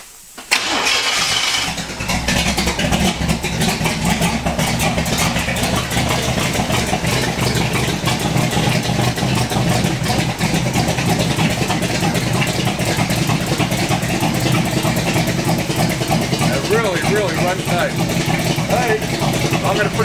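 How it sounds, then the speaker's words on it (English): A 1929 Ford Coupe hot rod engine cranks and catches, then idles loudly and steadily through its exhaust pipes for the rest of the stretch, with talk over it. "And let me just start it up. Listen to these pipes."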